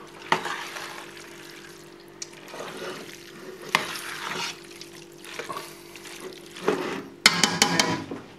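Tuna fettuccine alfredo is stirred and tossed in a pan, with scraping utensil strokes, soft sizzling and wet clatter in irregular bursts, sharper flicks near the end, and no voices.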